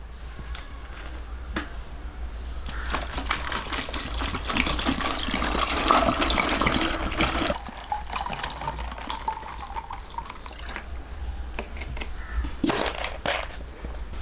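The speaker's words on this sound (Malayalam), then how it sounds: "നമുക്ക് തണുത്ത വെള്ളവും ഇതിൻ്റെ ഉള്ളിലേക്ക് ഒഴിക്കാം." Cold water is poured into a container, a continuous close splashing gush that rises in the middle, then tapers with a few drips and knocks.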